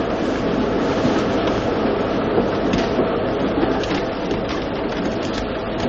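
A train runs steadily in a British comedy-mystery radio drama: a dense, continuous rumbling clatter of the carriages at constant loudness, with no voices over it.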